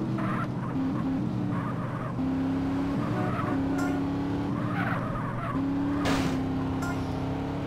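A race car in the San Fierro races of the video game GTA San Andreas revs hard and repeatedly shifts pitch, with loud tire squeals and skidding bursts, over a steady engine drone.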